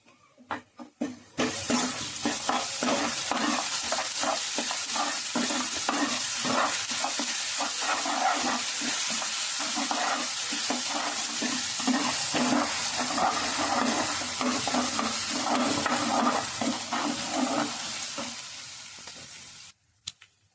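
Loud, continuous sizzling of small coconut pieces frying in hot oil for a tempering, with scraping stirring sounds throughout and no talking.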